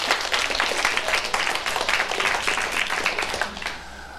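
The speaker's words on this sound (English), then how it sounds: "Round of applause." Audience applause on a 1987 televised campus quiz show, a dense steady clapping from a studio crowd lasting about four seconds before tapering off slightly at the end.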